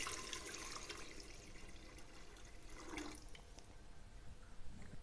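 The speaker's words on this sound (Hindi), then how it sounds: "अब हम इस पर तकरीबन 1 लीटर पानी डालेंगे।" About a litre of water poured into a pot of fried beef for nehari, a steady broad wash of pouring and sizzling liquid lasting throughout, fairly close and moderately loud, with no talking.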